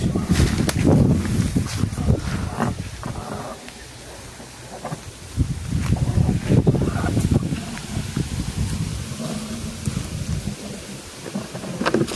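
Gusty wind blows outdoors at a village mango-picking spot, buffeting loudly in surges that rise and fall, with leaves rustling in the background.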